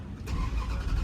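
A 1969 Dodge Charger engine catches after cranking, a sudden loud mechanical roar that jumps up and holds as a rough, rumbling idle in a short burst.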